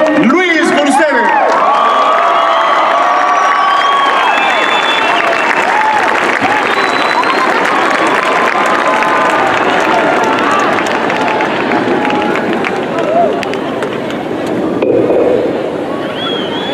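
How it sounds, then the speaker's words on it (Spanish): Concert crowd in Zacatecas greeting a singer with loud, sustained applause and cheering that fills the whole stretch, dense and close, swelling slightly near the end. "lo recibimos como él se merece, con un fuerte aplauso, con fuertes emociones y ovaciones"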